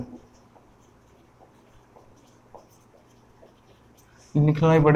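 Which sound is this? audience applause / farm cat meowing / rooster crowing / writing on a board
writing on a board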